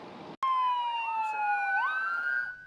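Emergency vehicle siren near Houston Executive Airport as regional fire crews respond, a loud wailing tone sweeping steadily and then rising in pitch, close and continuous after a brief gap.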